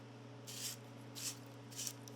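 A wire brush scrubs inside a short piece of copper tubing in three quick, faint abrasive strokes, each a hissing scrape spaced about half a second apart over a low background hum.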